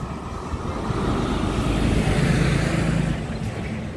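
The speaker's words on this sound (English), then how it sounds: "Just wait for this truck to go, because we don't want my little drone to get run over." A truck driving past on a road swells from a distant rumble to a loud, broad roar at its closest point, then fades back down over about four seconds.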